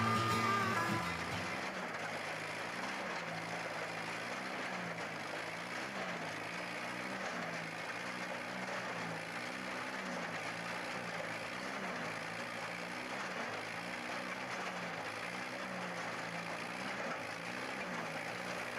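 A 1936 Case Model S tractor engine drives the cam-operated feet of a walking tractor, running steadily with a low, rhythmic chugging pulse under broad mechanical noise.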